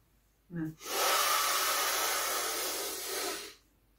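One slow, deep breath out and in, a soft hiss of air lasting a few seconds after a brief sniff, close and quiet in a still room.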